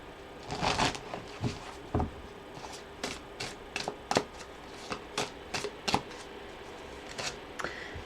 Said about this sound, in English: So I just want to pull 3 cards here